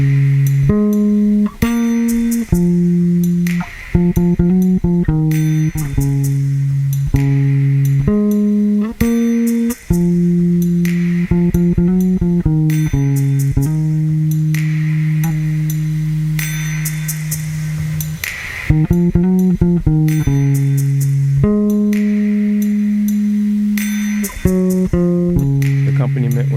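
A bass guitar plays the accompaniment to a worship song, with steady, sustained low notes that change pitch in a regular pattern over a faint, evenly spaced click track.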